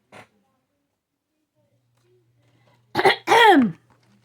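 Someone clears their throat loudly, a short rasping burst followed by a longer, harsh grating rumble, after a faint earlier click in an otherwise quiet room.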